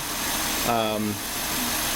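A 2006 Volvo S40 engine idling after an alternator replacement, a steady low mechanical hum throughout with a brief voice over it.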